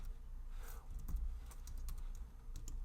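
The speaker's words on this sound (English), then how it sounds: "hit Control Spacebar and find it here" A computer keyboard clatters with a short burst of quick, soft key presses, close and quiet over a faint background hum, with no talk.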